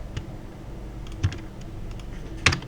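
Someone types a command on a computer keyboard, producing a few soft, sparse key clicks, close up and quiet, with no voices.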